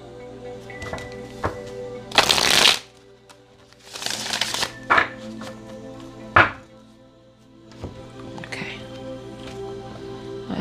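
A deck of tarot cards being shuffled gives a few loud riffling bursts and soft taps over a steady low hum, with quiet pauses between.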